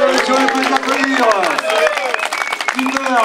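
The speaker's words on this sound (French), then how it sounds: "monsieur, vous pouvez applaudir" Audience applause at the Paris–Colmar 2014 race stop in Château-Thierry, steady crowd clapping with scattered sharp claps, under a voice speaking throughout.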